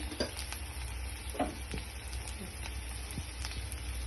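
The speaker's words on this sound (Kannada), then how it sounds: "ನಾವು ಈ ಥರ ಸ್ವಲ್ಪ ಫ್ರೈ ಮಾಡ್ತೀವಿ" Carrot palya frying with turmeric, salt and spices, a steady soft crackling sizzle close up with occasional light clicks of stirring, faint and continuous.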